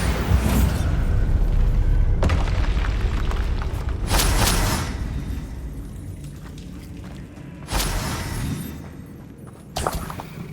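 The Bombarda spell in Hogwarts Legacy bursts with a heavy boom, followed by further sharp blasts and crackling debris bursts spaced a few seconds apart amid rumbling game ambience.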